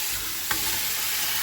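An onion, tomato and chilli paste fries in a pan, a brief, steady sizzle with one soft stirring click partway through.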